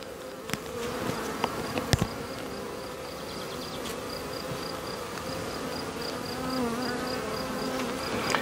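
Bees buzz steadily around a small colony outdoors, a dense close drone with a few sharp knocks and clicks, and no talking.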